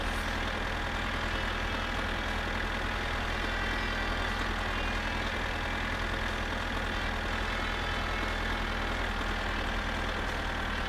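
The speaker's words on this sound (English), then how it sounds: "I can hear an engine." A car engine in the My Summer Car video game runs at a steady idle, giving a constant, fairly quiet drone with no voices over it.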